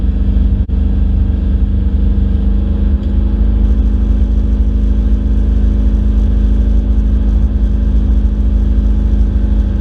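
A turbocharged 5.3 V8-swapped 1996 Camaro with a GT45 turbo and stage 2 cam driving through town, its loud, close engine a steady low drone with faint whirring, no voices.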